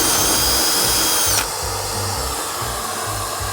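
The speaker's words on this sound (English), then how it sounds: "I'm then going to drill it out." A power drill bores out a rust hole in the steel floor of a VW Crafter van, a loud steady whine that drops in pitch partway through as the bit breaks through, with a vacuum cleaner running underneath.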